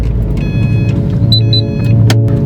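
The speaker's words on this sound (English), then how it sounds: "First, we gotta get the STi out of the garage." A Subaru STi backing out of a home garage, its engine idling with a low rumble and a few brief whirring and clicking sounds nearby.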